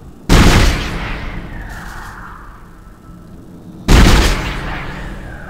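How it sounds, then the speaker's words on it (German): A weapon firing in the sci-fi horror game Dead Space: two separate heavy, booming discharges about three and a half seconds apart, each loud and close with a long fading rumble. "Die Waffe hört sich ja schon amüsant an."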